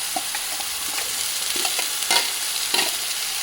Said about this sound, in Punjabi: ਆਹ ਪਿਆਜ਼ ਅਦਰਕ ਲਸਣ ਦਾ ਪੇਸਟ ਆਪਾਂ ਇਹ ਪਾ ਕੇ ਚੰਗੀ ਤਰ੍ਹਾਂ ਭੁੰਨਾਂਗੇ